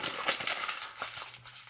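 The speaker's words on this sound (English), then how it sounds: "Crumble a paper." A sheet of paper is crumpled by hand, giving a continuous crackling, crinkling rustle of irregular bursts, quiet and close, with no talking.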